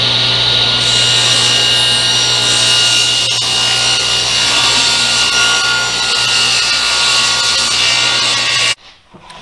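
A power saw blade cuts a dado in a wooden workpiece for a broken drawer repair, giving a loud, close, continuous grinding rasp that runs steadily for almost nine seconds before stopping abruptly.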